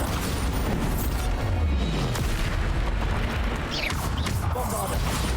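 Bombarda blasting spells detonate in Hogwarts Legacy, a dense run of deep booming explosions with broadband crackle over continuous battle noise, loud throughout.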